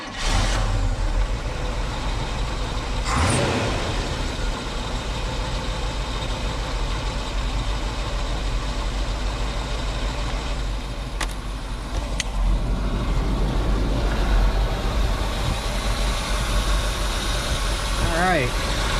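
A 1978 Chevrolet engine cranks and fires early on, then settles into a steady, close, rumbling idle that continues with faint background clicks and shifts.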